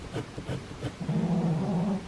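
Dog growling close by, a few short low rumbles followed by a sustained steady growl, alone in a quiet indoor room.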